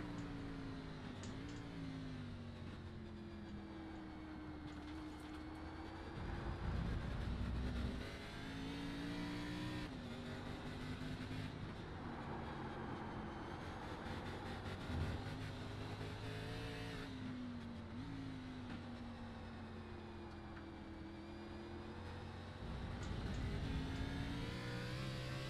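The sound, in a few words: race car engine onboard at Road America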